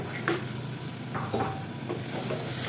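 Black-eyed beans being stirred into a spice-powder mix in a pan, with a steady close-up sizzle and soft, repeated spoon scrapes running throughout, no voices.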